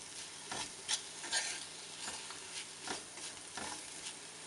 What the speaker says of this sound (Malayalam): തേങ്ങ ചേർത്ത് എല്ലാം കൂടെ നന്നായി റോസ്റ്റ് ചെയ്തെടുക്കണം.